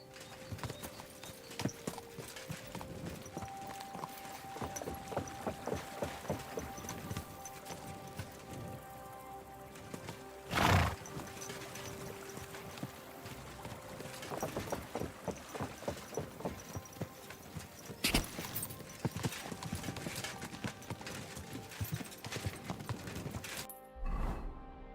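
Steady clip-clop of a horse's hooves in Kingdom Come Deliverance 2, a continuous trotting rhythm close by over a low background, with a brief loud thump partway through and a horse whinny.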